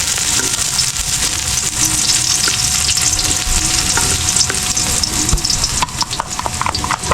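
Garlic frying in a hot pan gives a loud, steady crackling sizzle that runs continuously, with a few sharper clicks and stirring scrapes toward the end.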